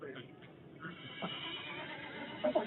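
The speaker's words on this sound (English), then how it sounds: "I heard a wild horse." A horse whinnies under ongoing talk, a short rising neigh near the end, with faint hoof clip-clop in the background.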